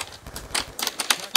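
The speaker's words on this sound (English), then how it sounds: "I'm playing on mouse and keyboard and not controller." Computer keyboard keys clatter in quick irregular bursts during a Call of Duty: Black Ops II multiplayer match played on mouse and keyboard, crisp close clicks with short pauses between them.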